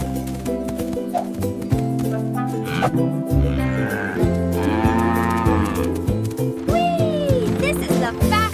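A cow moos loudly a few times amid cartoon Smurfs voices, music and busy sound effects.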